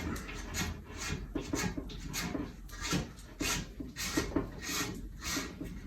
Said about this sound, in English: peel the bark off like that